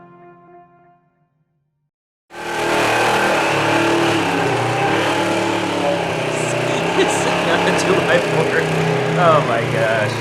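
A stripped-down Polaris XP 4 1000 off-road vehicle: after a brief voice and a short silence, the engine starts and runs with a loud, steady close-up roar and slight revving for several seconds.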